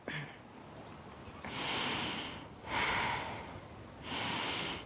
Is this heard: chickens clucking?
no